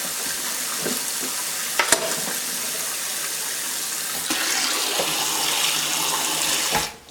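Continuous splashing rush of water as loofahs are soaked in a basin, steady and close with a brief clunk near the start.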